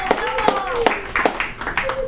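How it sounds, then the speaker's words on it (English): A small audience at an open mic night at the Kula Cafe claps, a few distinct rhythmic hand claps with sparse cheering and voices mixed in, fairly close and lively. "Can I get a little round of applause?"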